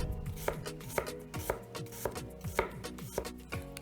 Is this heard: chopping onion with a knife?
yes